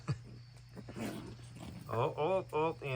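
A fennec fox gives low growls and whines at close range, with snarling bursts toward the end, while someone talks over part of it.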